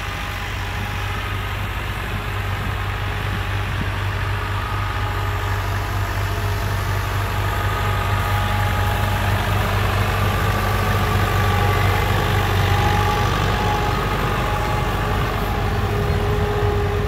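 A Massey Ferguson MF 290 diesel tractor engine runs steadily at moderate throttle while tilling a rice field, a continuous low rumble with a constant mechanical drone and no voices.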